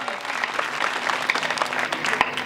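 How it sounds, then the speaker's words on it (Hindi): An audience at a Hindi poetry recital (kavi sammelan) claps in a lively burst, many hands close and uneven with a few crisp standout claps, a faint voice murmuring underneath. "तो एक बार और तालियां।"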